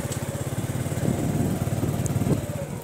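A motorcycle engine runs steadily on a rural village road, a close, buzzing, rapidly pulsing drone that holds constant for a few seconds with no speech.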